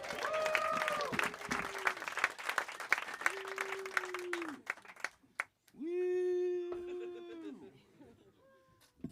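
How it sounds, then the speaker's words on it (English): A crowd at a comedy showcase claps and cheers as a comedian is welcomed to the stage, the applause building under a host's voice, with whoops and loud calls standing out near the end. "Start clap right now for Luke Newman, everybody"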